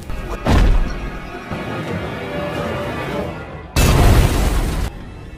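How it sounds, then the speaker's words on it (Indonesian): Two loud, sudden bursts of blast-like noise, the first brief and the second lasting about a second, with a rumbling, crackling background between them. "Sebelum akhirnya mobil tersebut meledak, bersama dengan Gilmore yang ada di dalamnya."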